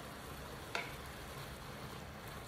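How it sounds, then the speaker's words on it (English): Stuffed bell pepper sauce with bay leaves being stirred in a pot, a soft steady simmering hiss with one brief scrape of the spoon early on. "And you wanna continue to stir, okay?"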